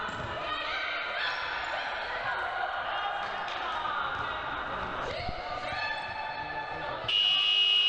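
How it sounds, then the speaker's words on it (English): A long, steady end-of-match buzzer drones through a women's league futsal game in a school sports hall, holding loud and continuous with an arena echo, while faint crowd and court noise sits beneath it. "there's the buzzer to signal the end then of this National Futsal Series Women's League Cup Group E match"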